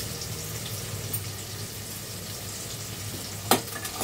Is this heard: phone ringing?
no